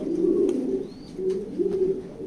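Racing pigeons in a loft give soft, low, throaty coos close by, two or three rolling phrases over a light background murmur.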